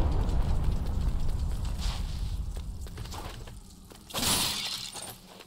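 Skulls shatter in a Prince of Persia: The Lost Crown boss area, with a crunchy breaking burst near the end over a low rumbling background and scattered clicks.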